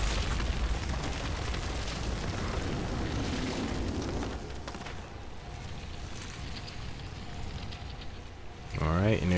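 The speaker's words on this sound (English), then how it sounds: "there's that explosion that we just got, so we're gonna really come to rely on that attack" Booming explosion attacks and rumbling blasts from the video game Darksiders II: Deathinitive Edition fill a dense, continuous roar of game audio, with a fresh burst near the end.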